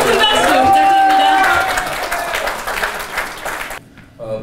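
Audience applause at a New York Korean trade associations' New Year ceremony and chair inauguration, a broad crowd clapping that fills most of the moment with music-like tones over it, then dropping away near the end as a voice begins.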